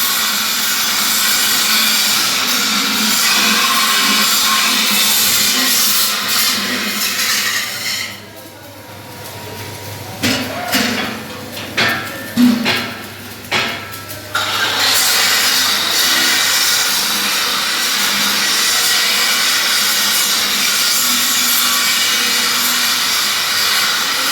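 A grinder works on the drum of a wheat thresher, giving a loud steady high hiss and rasp that briefly drops away into a few sharp bursts and knocks before the harsh grinding resumes.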